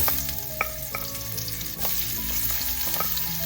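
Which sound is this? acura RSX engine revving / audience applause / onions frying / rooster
onions frying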